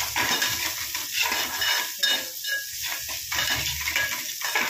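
Potatoes with turmeric are stirred in a pan over a low flame for aloo paratha filling, a metal spoon scraping and clinking against the pan in a steady back-and-forth rhythm, close up with a faint sizzle beneath.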